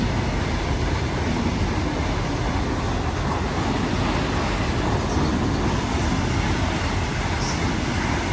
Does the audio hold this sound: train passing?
yes